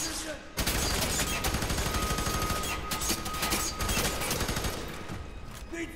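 Dense, sustained automatic gunfire and overlapping shots from the first-person shooter FEAR 3, loud and continuous after a brief quiet opening, with faint voices mixed underneath.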